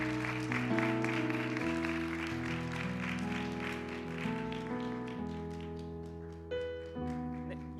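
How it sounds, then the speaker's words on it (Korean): Church congregation applauding to welcome two new members at a Sunday youth service, the steady clapping spread thin beneath sustained keyboard or organ chords that carry on throughout. "박수로 환영해 주세요"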